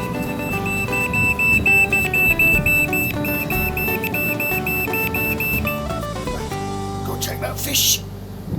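A cooking timer alarm on a barbecue beeps in a steady repeating pattern for several seconds, then stops, followed by rustling and handling noise nearby.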